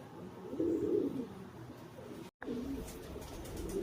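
A Homer pigeon hen, nesting, gives soft low coos close by, a couple of rounded calls broken by a brief gap.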